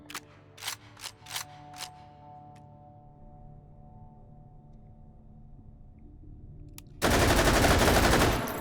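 Automatic fire from a Russian RPD-style machine gun in a VR shooter game comes first as several sharp, separate shots and then as a loud, dense, rapid-fire burst at the end.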